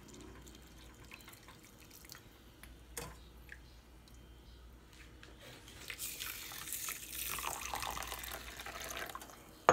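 Hot water poured into a tumbler to soak rice ada for Kerala ada pradhaman payasam, a faint trickling and dripping that swells into a steadier pour near the end, with no talk.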